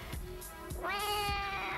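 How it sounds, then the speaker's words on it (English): Cats meowing outside, with a drawn-out, rising caterwaul following a few lower, rhythmic sounds. The sound is close and fairly loud. "a cat meeting up with another cat outside"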